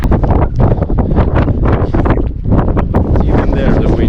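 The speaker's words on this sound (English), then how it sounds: "Even there the wind's picking up." Strong wind roars across a mountain in a snowstorm, loud and continuous, with gusts buffeting the microphone throughout.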